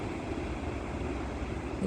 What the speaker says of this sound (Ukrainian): які здорові хвилі. Білі-білі. Вітер такий.